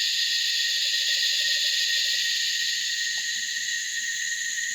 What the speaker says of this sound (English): See if the kookaburra can out sing the cicadas